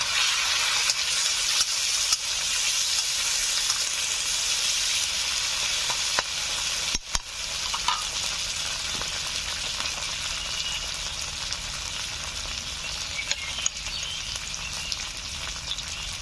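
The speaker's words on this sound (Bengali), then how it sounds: "এখন দিয়ে দিচ্ছি 1 চামচ আদা বাটা, 1 চামচ রসুন বাটা, দিয়ে দিচ্ছি একটা টমেটো," Ginger paste, garlic paste and tomato fry in a pan for an egg masala curry, with a loud continuous sizzle and scattered scraping stir strokes running throughout.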